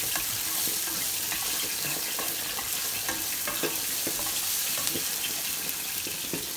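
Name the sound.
green plantain frying in pan, being stirred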